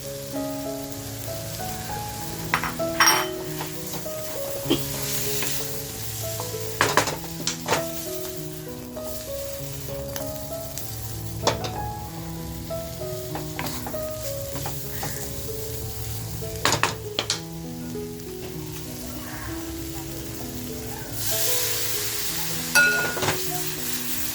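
Pieces of mutton and chops frying in a hot pan with spiced paste, a loud continuous sizzle with crackles and occasional stirring clatter, no voices.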